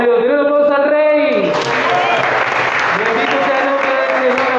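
Applause and cheering from a large church congregation indoors, steady and loud, with singing voices and music carrying over it throughout.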